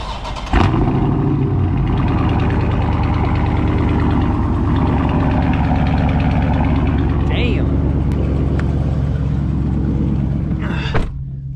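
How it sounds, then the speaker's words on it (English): A 2020 Dodge Charger Scat Pack widebody with a muffler delete cranks and fires up loudly, then settles into a deep, steady, rumbling idle close to the microphone, with someone talking over it. "I just got the muffler delete on my car here, the 2020 wide body Charger SCATPACK. So you already know we gotta start it up."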